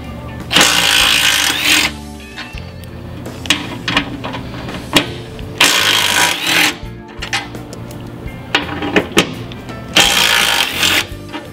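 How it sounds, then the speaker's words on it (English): A power tool works on Torx bolts in a vehicle bumper during a bull bar fitting, with several loud whirring bursts separated by short pauses, close and alone. "first comes the removal of 1, 2, 3 Torx bolts from each side of the bumper"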